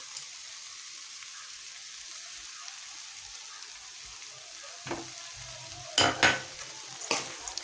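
Beetroot laddu mixture with almonds being stirred in a pan over faint sizzling, quiet at first, then a few sharp scraping strokes of the spoon near the end.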